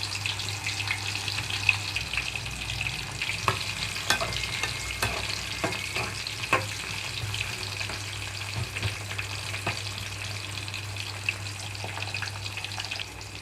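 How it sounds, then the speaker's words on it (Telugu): Bitter gourd pieces sizzle steadily in oil in a pan, a close, continuous frying hiss with occasional clinks of a stirring spoon against the pan. "కాకరకాయ ముక్కలు కొద్దిగా వేయించుకుంటున్నాను."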